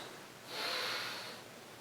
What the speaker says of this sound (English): we want to make sure that we're going in through nose just trying as much as possible to breathe out through the nose as well